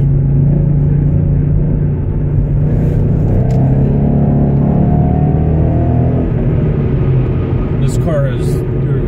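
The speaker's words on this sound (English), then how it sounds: "This car has, or this van has something dragging under it." A van drives with something dragging underneath it, giving a loud, steady, continuous road rumble throughout with no clear breaks.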